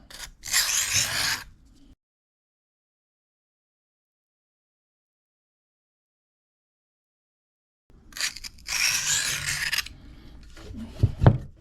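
Two bursts of rasping knife-sharpening strokes across an 800 grit Kitanis diamond plate, each a quick run of close scraping passes separated by a long silent gap.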